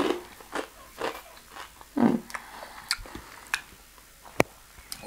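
Crisp black rice balls bitten and crunched close up, a few sharp crunchy bites followed by quieter chewing, with no talk.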